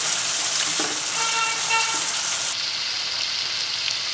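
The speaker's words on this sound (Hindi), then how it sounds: "इन सभी को अच्छे से सौते कर लें" Vegetables sautéing in a pan for chicken barra curry give a steady, bright sizzle that runs continuously, with brief faint tonal beeps partway through and no talking.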